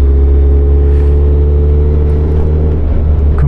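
A Suzuki Hayabusa motorcycle's engine drones loudly and steadily while riding through corners on a country road drive near Daejeon and Gongju, heavy wind rumble under the engine note, pitch easing toward the end.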